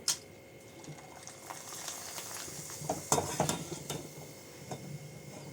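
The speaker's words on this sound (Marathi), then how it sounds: "आता मी तुम्हाला हे चिप्स तळून दाखवते आपलं तेल तापलेलं आहे आता आपण चिप्स तळून घेऊ" Potato chips fry in hot oil, a close bubbling sizzle with spatula stirs and a few sharp scrapes and clinks over several seconds.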